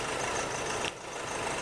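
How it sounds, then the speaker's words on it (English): A 2008 Nissan Navara D40 engine idling with a misfire, a steady broadband running rumble that dips slightly partway through, heard alone without talk. "Now watch the engine stop when we hit cylinder number 2."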